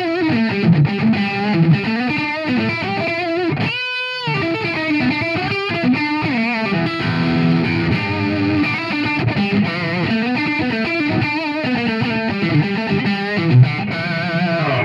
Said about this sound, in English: so you can go to the single coil pickup in the middle,